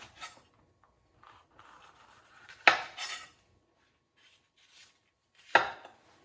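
Knife chopping peppers on a cutting board during home cooking of beef tacos: two sharp, loud chops stand out, separated by a few seconds, with fainter scraping and board knocks between them and no talking.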